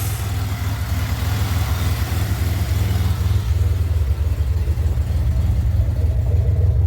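A supercharged 2007 Pontiac Grand Prix engine idles steadily up close, a continuous low throbbing rumble with an even pulse that holds at a constant loud level throughout, with no voices.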